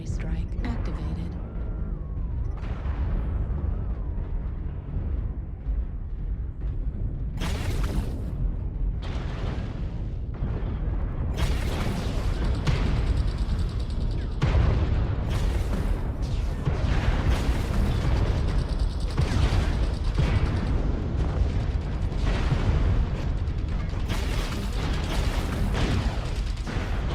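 Artillery strike in MechWarrior Online: a long run of heavy, rumbling explosion bursts and mechanical clanks, loud and repeated at irregular intervals, with a voice speaking over parts of it.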